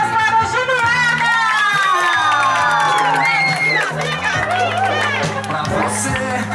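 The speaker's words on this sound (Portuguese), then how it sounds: "Uma salva de palmas para a Juliana!" A crowd cheers and whoops loudly and continuously at a family celebration for a 17-year anniversary, with excited shouts and children's voices mixed in, and people talking in the middle of the noise.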